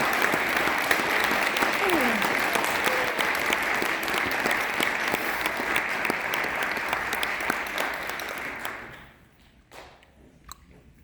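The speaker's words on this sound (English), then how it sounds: "Can we give these lovely young men and women another round of applause?" Sustained applause from a concert audience after young soloists perform, a dense, even roar of clapping that carries for several seconds before fading to quiet with a few stray sounds.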